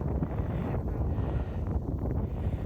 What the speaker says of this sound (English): And it's really windy again.